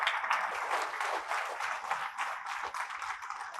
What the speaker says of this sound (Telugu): మీరందరూ కూడా ఆయన్ని ఒక్కసారి కృతజ్ఞతలు చప్పట్లు పట్టండి